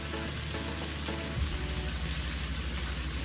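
Coriander being stirred on a tawa for paneer pulao with no onion or garlic: a steady, quiet frying sizzle with soft scraping as the mixture is moved, and no voices.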